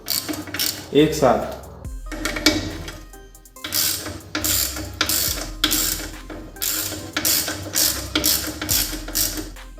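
Nuts on a Mahindra tractor's 10-inch finger-type clutch pressure plate being loosened: repeated close ratcheting bursts with metallic clicks in steady rhythm, with someone talking briefly at the start.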